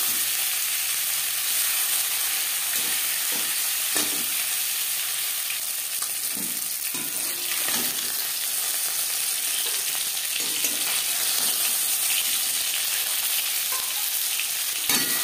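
Fish fries in oil in a pan for a curry, making a continuous close sizzle. Occasional soft clicks and scrapes of turning come through, and no one speaks.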